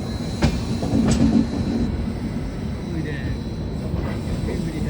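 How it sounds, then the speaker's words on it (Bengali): A Sealdah Rajdhani Express train rolls slowly on rails after leaving Ghaziabad for Delhi, giving a steady, loud, close rumble with faint rhythmic clatter throughout. "তো গাজিয়াবাদ ছেড়ে আমাদের ট্রেন এখন আস্তে আস্তে দিল্লির দিকে যাচ্ছে"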